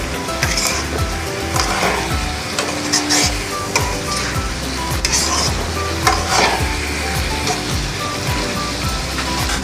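Chapila fish curry sizzles and fries in a pan as green chilies go in, with steady stirring scrapes and crackling oil running close and continuous throughout.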